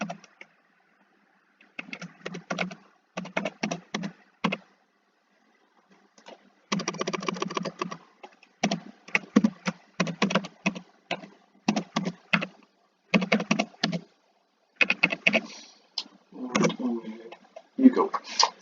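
Typing on a computer keyboard while entering a username and password, heard as bursts of quick, close key clicks separated by short pauses, with no talk.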